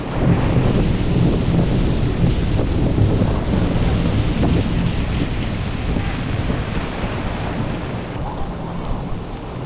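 Heavy rain pours steadily at a campsite in Zambales with broadband rumble and wind buffeting the microphone throughout, loud and close, no speech.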